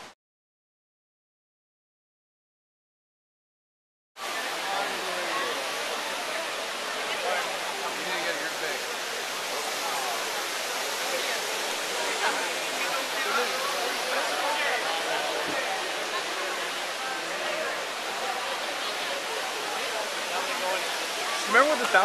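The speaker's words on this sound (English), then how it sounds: "Trevi Fountain." Water splashing and rushing at the Trevi Fountain in Rome, a steady broadband wash that cuts in after about four seconds of silence and continues evenly, close and fairly loud, with no clear voices over it.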